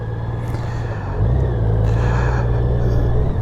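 A 2018 Honda Goldwing Tour motorcycle being ridden, its engine giving a steady, loud, close low rumble that steps up slightly in pitch and level partway through, with no talking.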